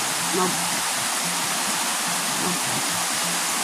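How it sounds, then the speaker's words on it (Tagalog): A brown, rain-swollen river rushes steadily in a broad, continuous wash, with a faint voice now and then beneath the flow. "nandito na kami sa ilog at yung tubig"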